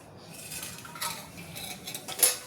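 Spoon clinking against a bowl while mixing gram flour batter with chili, garlic and sesame, light scraping and tapping in irregular strokes, no talk.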